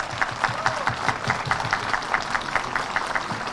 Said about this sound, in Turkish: İshak Başkanım en büyük alkışları hak ediyor